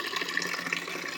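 Water runs from an outdoor tap at a picnic spot, a steady faint splashing hiss that continues evenly throughout with no voices.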